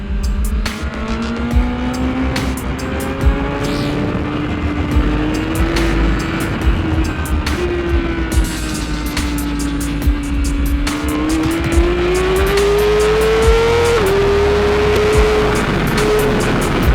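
2015 BMW S1000RR sportbike with an HP ECU, engine note on a race track: a steady, loud, high-revving whine rising and falling in pitch through gear changes under heavy wind rush, with no talking.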